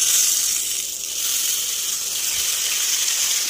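Spice paste sizzles loudly as it hits hot oil in a pan for an egg dish, a steady bright hiss that fills the clip with no talking.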